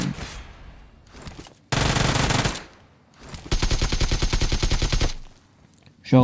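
Automatic gunfire from the mobile game PUBG Mobile bursts loudly in two long rattling volleys with quieter gaps and scattered single shots between them.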